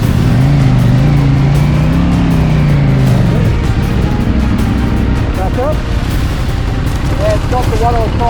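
KTM 890 adventure motorcycle ridden on forestry bush trails near Noosa: a loud, steady engine drone with rough wind and terrain noise, its pitch sliding early on as the rider shifts and throttles, close and continuous throughout.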